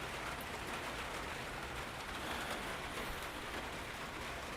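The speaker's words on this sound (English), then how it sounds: "you guys get some ASMR rain" Steady rain falls outdoors, an even, dense hiss of drops that continues unbroken at a soft level.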